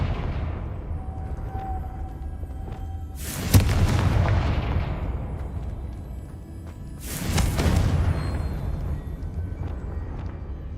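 Confringo fire spell explosions in the Hogwarts Legacy video game: two loud booming blasts a few seconds apart, each with a sharp crack followed by a long rumbling decay over low ambient hum.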